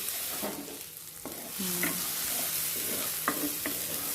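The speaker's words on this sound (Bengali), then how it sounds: "ভালো করে পেঁয়াজটা ফ্রাই করে নিতে হবে" Onions frying with turmeric in a pan, a steady close sizzle with a few scrapes and clinks of a spoon stirring through it, no voices.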